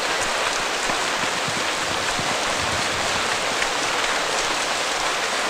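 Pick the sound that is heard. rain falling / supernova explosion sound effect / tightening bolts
rain falling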